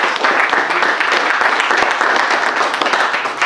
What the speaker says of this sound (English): let's give Joe and Joanne another big round of applause